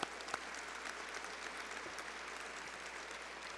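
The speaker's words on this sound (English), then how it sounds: "let's give them a big round of applause" Faint, steady applause from a gala audience, a soft even wash of clapping heard at a distance with a couple of sharper claps near the start.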